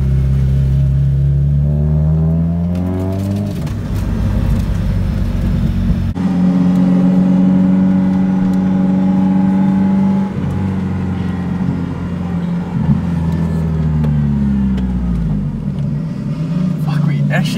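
A drift car's engine idling and revving at a drift day event, a steady loud mid-pitched drone rising and falling in pitch, with people talking nearby.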